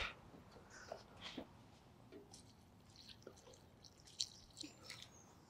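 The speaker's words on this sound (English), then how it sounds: "First thing I'm going to do is give these a little water, or good water, with the comfrey feed." Water mixed with comfrey feed is poured onto squash seedlings on a wildlife allotment, giving soft, scattered drips, splashes and wet squishing. It is quiet and close, with no talking.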